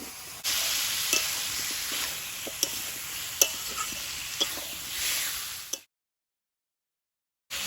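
Papaya and potato with chopped onion and salt fry in a pan, making a steady sizzle broken by scraping stirs. The cooking cuts off into silence near the end.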